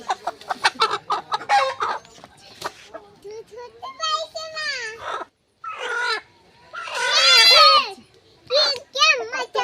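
Chickens cluck and squawk in bursts during handling of a large two-to-three-kilogram local desi black-feathered hen before cooking, close and fairly loud, mixed with children's voices and talk throughout.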